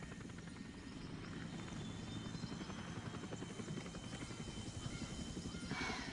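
A helicopter flies over a jungle setting, its rotor producing a steady buzzing thump that holds at moderate level throughout with no voices.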